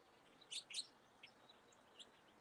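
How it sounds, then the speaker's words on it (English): Faint, high chickadee calls chirp a few times in quick short bursts against quiet outdoor background hiss. "that dee, dee, dee, dee, that is a chickadee"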